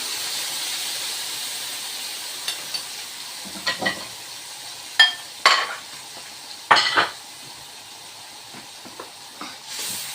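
Tomatoes go into a hot pan for a chicken koshari-style tagine, giving a steady soft sizzle and hiss with several sharp clanks and scrapes of a utensil against the pan, no voices.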